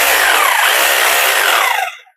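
A rotary hammer drilling machine runs in chipping mode with a loud, continuous buzzing whine that holds steady for nearly two seconds, then fades out as the motor stops.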